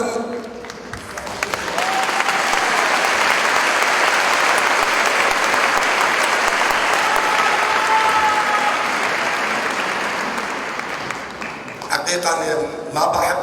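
A large audience at a Guadalajara talk given by a speaker breaks into loud, sustained applause that swells, holds for around ten seconds, then fades as a voice begins speaking.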